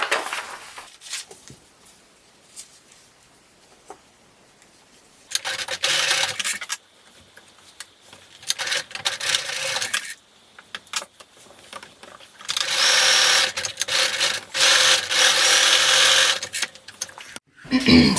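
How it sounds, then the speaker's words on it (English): Sewing machine basting across the bottom of a fabric beach bag, with several loud bursts of fast, close stitching separated by quiet pauses and light handling noises. "And then we're going to baste across the bottom."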